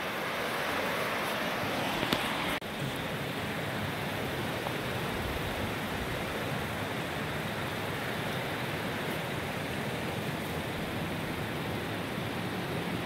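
Greer Spring boils up out of the ground and pours into a river, a constant dense rushing roar of water, close and loud, broken only by a brief knock early on.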